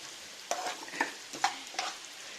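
Grated coconut roasting in a pan while being stirred, a soft continuous sizzle broken by four or five distinct scraping strokes at a steady pace, close and fairly quiet.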